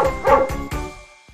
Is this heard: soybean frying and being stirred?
no